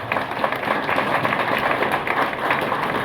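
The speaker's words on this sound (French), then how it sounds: "Est-ce que vous pouvez continuer à applaudir M. Delva en tant que président" An audience at a political party's tenth-anniversary celebration applauds Mr. Delva as president, producing a dense, continuous patter of many hands clapping at an even level throughout.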